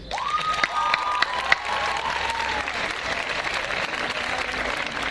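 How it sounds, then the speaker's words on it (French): An audience at a 2016 school graduation ceremony applauds the student council, with dense, steady clapping lasting throughout, a few sharper claps standing out near the start and faint whistle-like tones drifting over it. "on peut applaudir bien fort le CVL"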